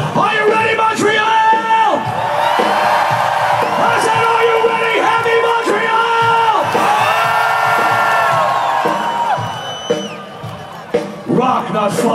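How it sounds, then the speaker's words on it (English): A large concert crowd at the Heavy Montréal festival in 2014 yells and cheers during a show, loud sustained chanted bellows rising and falling in waves before thinning out near the end. "when you yell rock, throw your fist in the air so the world can see you as well as hear you"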